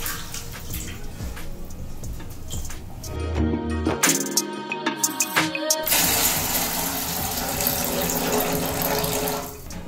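Water runs from a tap into a cooking pot, two glasses' worth, for boiling rice at home, a steady splashing stream with a rising pitch as the pot fills, close and fairly loud, with no talking.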